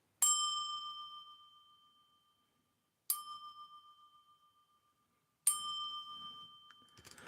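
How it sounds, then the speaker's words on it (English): A small hand bell rung quietly indoors, three separate clear strikes, each ringing out and decaying slowly, with no one speaking. "I'm going to just ring a little bell here"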